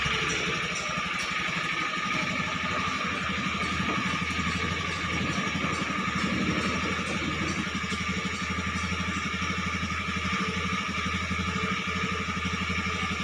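An old car's engine idles steadily in a parking lot, a continuous low, even hum with a faint clattering texture, fairly close and uninterrupted, with no voices over it.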